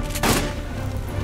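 A short, sharp burst of gunfire booms in the video game Aliens: Dark Descent, one loud blast over a low rumbling background.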